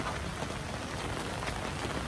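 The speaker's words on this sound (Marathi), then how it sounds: "दिस इज टू मच बारिश." Heavy monsoon rain pours down at a seaside spot in Malvan, Konkan, a dense, steady hiss of drops drumming on surfaces, close and continuous with no voices.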